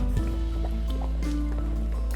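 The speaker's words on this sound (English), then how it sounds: "Let this cook and bubble for about 15 to 20 minutes." Homemade spicy tomato ketchup bubbles as it cooks in a pot, with soft wet pops and squelches that come irregularly, up close and with no talking.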